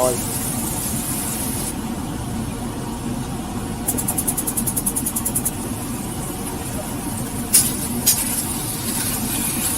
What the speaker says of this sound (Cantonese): 落油落薑片，落蒜片，爆香一陣，跟住落啲豬肉落去